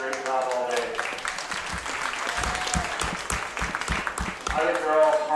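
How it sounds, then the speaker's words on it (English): A crowd applauds steadily for several seconds at a 4-H goat and sheep show, dense clapping swelling near the end, with voices faintly audible at the start and finish. "let's start out with a big round of applause for their great job all day."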